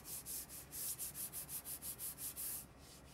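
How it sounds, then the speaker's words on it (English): Rhythmic back-and-forth strokes of sanding wood, about a dozen steady rubs, close and quiet, then it stops. "We always sand with the grain"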